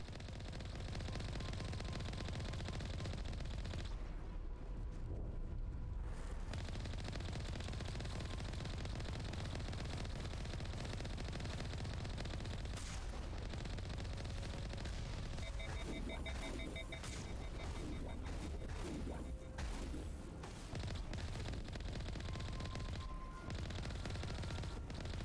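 Mako vehicle cannon in the video game Mass Effect, rapid repeated firing under a constant loud rumble of engine and explosions, shots coming in rattling bursts broken by brief lulls.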